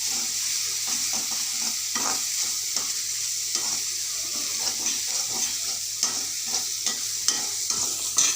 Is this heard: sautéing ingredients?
yes